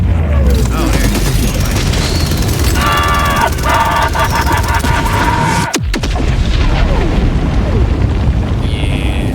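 A deep explosion boom in the video game Helldivers 2 lands midway through a dense bed of game effects and background noise, briefly sharp and heavy before the busy soundscape carries on.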